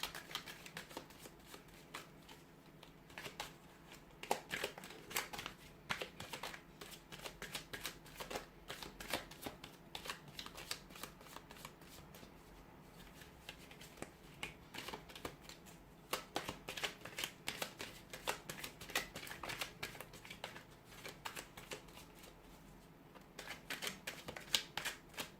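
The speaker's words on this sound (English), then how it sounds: "keep the cards a shuffle" Tarot cards are shuffled by hand in a long, continuous run of crisp riffling flutters and soft slaps, close and fairly quiet, with no talking.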